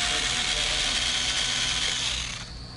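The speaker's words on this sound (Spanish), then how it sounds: "y retiramos ese tornillo" Small mechanical ratcheting clicks from a screw being backed out of a toner cartridge, steady and close for a few seconds before easing off, with no talking.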